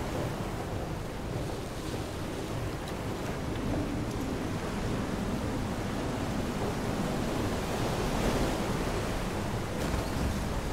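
Choppy ocean waves roll and wash around a small boat in the video game Far: Changing Tides, a dense, continuous surf roar mixed with wind rush, steady and loud with no voices.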